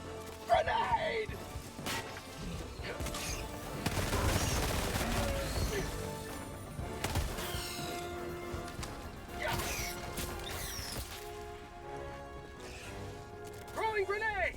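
Grenade blasts and gunfire crash and rattle through a chaotic Helldivers 2 firefight, with heavy impacts near the start and middle over a constant noisy din, while voices call out over the action.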